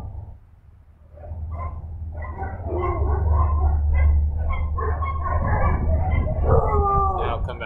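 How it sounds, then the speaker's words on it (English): Several neighborhood dogs bark and howl together outdoors in a continuous, overlapping chorus at moderate distance, rising in loudness after a brief lull, over a steady low rumble. "As soon as one starts barking, they all do."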